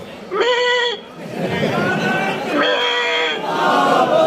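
A crowd at a demonstration after Friday prayers imitates goat bleats with voices, giving several wavering, nasal calls that rise over the general crowd noise.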